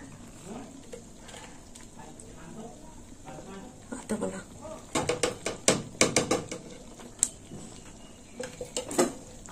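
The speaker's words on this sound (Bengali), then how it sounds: "আর একটু নেড়ে চেড়ে নেব" Shrimp dal with ghee being stirred in a pot: a quiet bubbling simmer, then a run of sharp metal spoon scrapes and clinks against the pot, close and intermittent.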